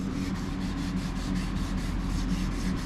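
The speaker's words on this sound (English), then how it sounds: "You got to watch when you sand for the body lines." Rhythmic back-and-forth hand sanding of a 1969 Dodge Charger's body panel, steady strokes repeating about every quarter second, close up.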